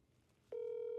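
A phone call rings out while waiting for someone to answer, a quiet start giving way at the midpoint to a loud, steady electronic ring tone that holds to the end.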